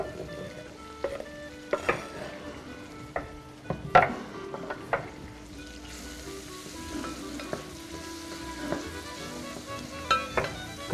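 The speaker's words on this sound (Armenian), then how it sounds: "Կտապակենք այնքան մինչ կեղևապատվի։" Carrots with potato stirred and frying in a pan for an Armenian mallow soup, a soft steady sizzle broken by scattered scrapes and knocks of the spoon against the pan, close and fairly quiet throughout.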